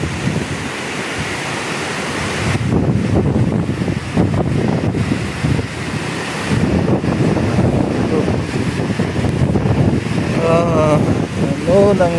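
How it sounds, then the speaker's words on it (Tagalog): Typhoon wind and rain lash Ligao, Albay, roaring gusts buffeting the microphone in loud surges with a steady rushing downpour beneath, and brief voices in the background. "Hangin at ulan, guys."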